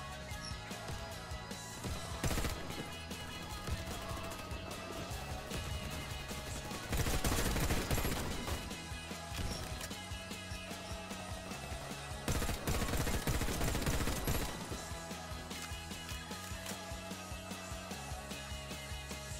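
Assault rifle fire in the Warface shooter: bursts of gunfire over busy game sound and music, with two dense stretches of sustained automatic shooting, loud and close.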